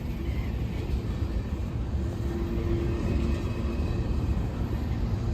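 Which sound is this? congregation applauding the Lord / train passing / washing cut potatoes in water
train passing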